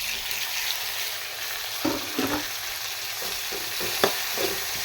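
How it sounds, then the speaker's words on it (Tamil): Onions and tomatoes sautéing in a pan for a karamani curry, a steady close sizzle broken by several distinct spatula scrapes and taps. "இது கொஞ்சம் நல்லா குழஞ்சி வர்ற அளவுக்கு வதங்கணும்"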